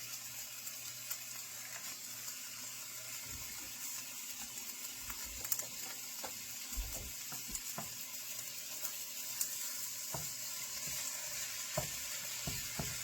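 Squash and onions cooking together in a pan give a steady, soft sizzle with faint crackles and occasional small pops, fairly quiet and continuous, with no voices.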